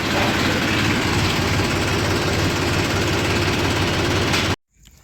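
A tractor engine runs in gear at a loud, steady drone with a deep rumble, then cuts off abruptly near the end.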